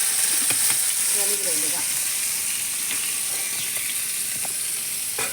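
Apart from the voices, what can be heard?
murrel fish frying in oil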